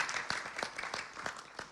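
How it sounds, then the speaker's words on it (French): Applause from a stadium crowd at a Senegalese dedication ceremony, a short burst of scattered claps with several sharper hits standing out, moderately faint. "On applaudit."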